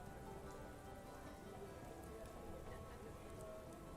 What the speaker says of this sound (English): You can hear the rain beating off the roof outside.